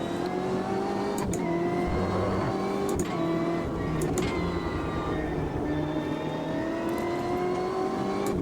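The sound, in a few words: race car engine with air compressor, Automobilista 2 video game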